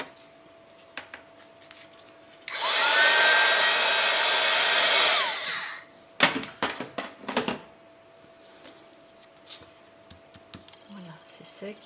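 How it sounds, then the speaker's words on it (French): A hair dryer blows loudly for about three seconds to dry paint on a trompe-l'œil rusted-metal effect, then cuts off. Close clicks and brushing taps follow in the quiet room. "Je vais sécher parce que là je ne voudrais pas embarquer mes petites taches oranges"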